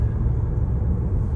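Continuous low tyre roar and road rumble from a Hyundai Kona driving over a rough, worn road surface, steady throughout inside the cabin.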